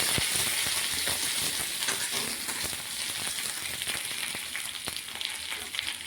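Curry leaves frying in oil in a pan for a Bengali chutney, a steady close hiss and sizzle with occasional spatula scrapes and crackles, no voices.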